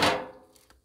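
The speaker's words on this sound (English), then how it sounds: "So we'll flip it over." A single sharp scrape and thud as a thick slice of Texas toast is flipped on a flat griddle, loud up close and quickly fading, with a faint small tap after.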